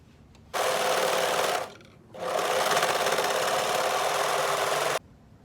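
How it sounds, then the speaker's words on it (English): A serger stitching down the edge of a fabric twisted headband: two steady, close bursts of fast whirring machine stitching, the first about a second long, a short pause, then a longer run of several seconds. "So I'll take it to my serger and just sew this down."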